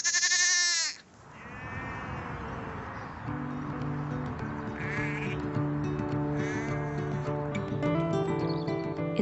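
Sheep bleating on a farm during lambing, several animals calling with loud, drawn-out bleats near and farther off, one cry opening the scene and others overlapping steadily afterward.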